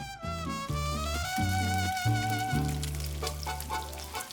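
Meat sizzles in a hot frying pan with rendered fat, a crackling hiss with some clattering and stirring, while a high tonal hum sounds over it.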